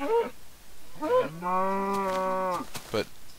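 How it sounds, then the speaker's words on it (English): Minecraft cow in the video game mooing while hurt in fire, a few short close cries followed by one long drawn-out moo, then another brief call. "Okay, let's hear it on a cow."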